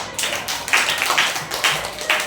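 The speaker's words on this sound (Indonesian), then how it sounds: "kita berikan tepuk tangan untuk kelompok 2" Classroom of students clapping for a presenting group, a short sparse round of claps with distinct individual hits in an uneven rhythm, fairly close and modest in volume.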